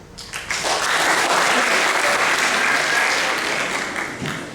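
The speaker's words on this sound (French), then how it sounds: "parce qu'ils applaudissent pour rien" An audience at a stage hypnosis show bursts into loud, sustained applause that swells quickly, holds steady for several seconds and then begins to taper.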